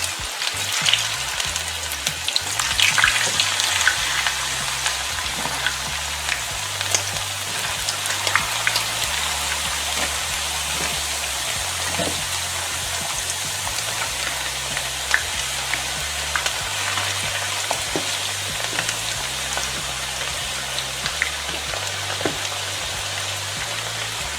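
Potatoes frying in oil in a pan for Peruvian lomo saltado, a dense, loud, rain-like crackle and sizzle that holds steady throughout with no voices.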